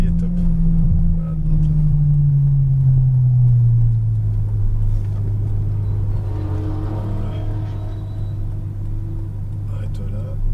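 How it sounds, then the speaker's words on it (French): A Ferrari F12 Berlinetta V12 engine hums deep and close, its pitch sliding down as it settles into a steady, rumbling idle. "Le bruit vraiment de la V12 de Ferrari est top."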